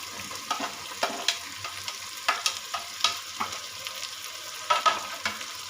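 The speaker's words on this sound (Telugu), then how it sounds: "వెజిటేబుల్స్ అంతా వేసాక బాగా కలుపుకొని" Potato, capsicum, carrot and beans are stirred in a cooker for vegetable pulav, a steady sizzle broken by repeated scraping clacks of the spoon at a loose rhythm, close and alone.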